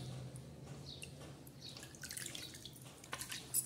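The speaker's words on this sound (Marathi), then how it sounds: "आपण त्याला पुन्हा एका पाण्याने धुणार आहोत" Raw chicken pieces being rinsed under running water for a Maharashtrian-style chicken curry, giving a steady soft trickle with faint drips and splashes that swell near the end, close and fairly quiet, with no voices.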